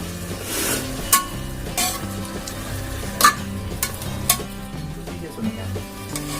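Dry fish gravy with chilli powder fries in a pan while a spoon stirs and scrapes it, giving a few sharp clinks over a low sizzle, all set against background music.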